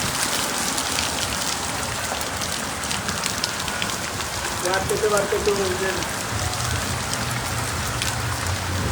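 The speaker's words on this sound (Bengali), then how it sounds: "এখন প্রচুর পরিমাণ বৃষ্টি" Heavy rain pours down beside a river during a storm warning, a steady dense hiss of drops hitting surfaces that stays loud and continuous throughout, with a faint low rumble joining near the end.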